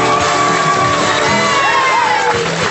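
Audience cheering and whooping, with shouts and high voices from a crowd blending into a loud, sustained roar that fills the whole clip.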